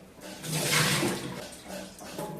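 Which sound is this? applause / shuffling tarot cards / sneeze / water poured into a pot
water poured into a pot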